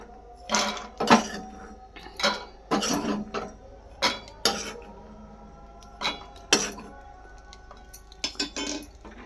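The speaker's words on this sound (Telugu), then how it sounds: "మిక్సీ గిన్నె అయితే తీసేసుకున్నాను ఇక్కడైతే పల్లీలు అయితే వేసేస్తున్నాను" Peanuts are tipped into a steel mixer jar in uneven bursts, each one a close, crisp rattle and clink of nuts on metal, with quiet gaps between pours and no talking.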